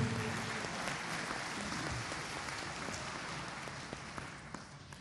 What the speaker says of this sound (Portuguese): Se você puder, aplauda este Deus maravilhoso.